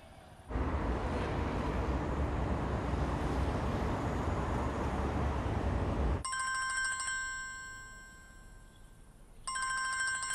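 A telephone rings with an incoming call, its bright electronic ringtone sounding in two bursts after a stretch of loud, rumbling background noise, with no one speaking over it.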